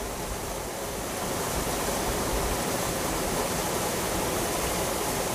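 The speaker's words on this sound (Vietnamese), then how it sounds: "Phía sau lưng của quý vị đây là suối Hồ, hay còn gọi là suối Ba Ra." Flowing water of the Hồ stream (Ba Ra stream) at Đại Lãnh, running low in the summer dry season, heard as a loud, steady broadband rush close by with no voices.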